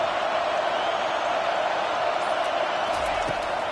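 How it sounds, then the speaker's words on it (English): Steady roar of a football stadium crowd in an NCAA college football video game, a dense continuous wash of cheering held at constant loudness for the whole stretch with no break. "this crowd trying to help keep them there."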